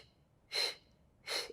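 Two sharp, breathy exhalations during a beginner Pilates glute workout, each a short forceful puff of air about a second apart, close and clear against quiet surroundings.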